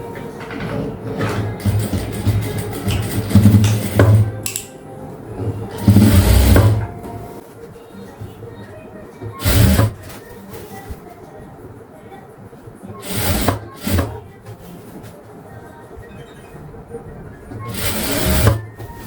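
A sewing machine stitches maxi dress fabric in bursts, its motor whirring close and moderately loud between quiet pauses while someone speaks.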